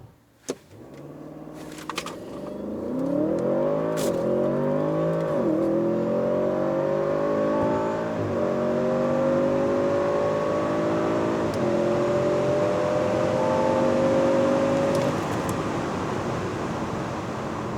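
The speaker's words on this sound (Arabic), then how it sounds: "خليني افرجيكم تجربة التسارع من 0 ل 100" A 570-horsepower 4.0-litre twin-turbo Audi S8 quattro revs hard and accelerates steadily from 0 to 100, its rising gear-by-gear whine and roar sustained loudly for most of the clip, with a brief shift thump early on.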